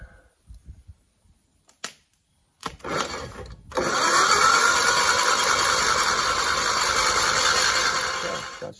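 An old 1960 Onan engine is made to start: a few faint clicks, then a loud, steady whirring roar that carries on close and unbroken for about five seconds.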